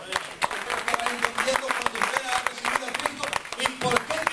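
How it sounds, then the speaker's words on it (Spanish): A church congregation claps during a Spanish-language Sunday service, dense scattered handclaps filling the room at a moderate level, with voices calling out among the applause. "Denle un aplauso al Señor."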